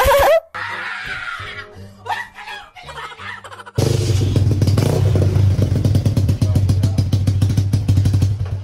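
Suzuki Smash motorcycle fitted with a new Apido XRM125 exhaust pipe, revving hard and loud after a few seconds of laughter and chatter, its rapid sputtering exhaust pulses running steady and close to the end.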